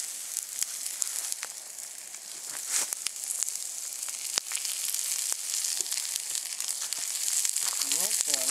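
Onions sizzle and fry on a hot plate over an open campfire at a rough Australian-style bush barbecue, a steady close hiss with crackles and occasional stirring scrapes throughout.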